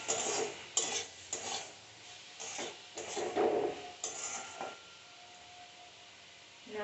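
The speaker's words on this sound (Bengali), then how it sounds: "নুনটা দেওয়ার পরে আমরা আরও একটু নাড়িয়ে নেব।" Mango and date chutney with salt stirred in a pan on a gas stove: faint, irregular scraping strokes of a spoon against the pan over a low background hiss, with no voices.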